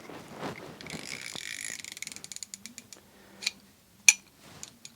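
A cheap Duralast 1/4-inch flexhead ratchet clicks close up, first in a fast run of clicks and then as slower separate ticks with a sharp snap near the end.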